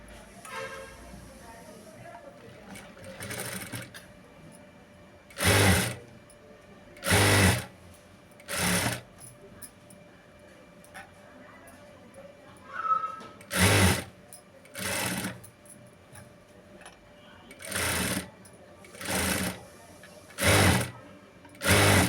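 A sewing machine stitches piping onto the lining of a blouse back in short, loud bursts of rapid needle whirring, about a dozen runs separated by pauses of quieter handling.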